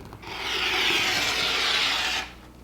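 A single steady rasping cut through quilt fabric, lasting about two seconds, close and fairly loud, with no talking.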